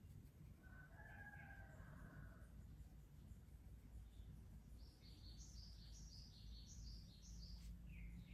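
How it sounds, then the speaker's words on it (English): A bird calls outside a window with a short burst of high chirps at the start and a run of repeated higher chirps later, set against a steady low indoor hum. "There's a bird outside my window now."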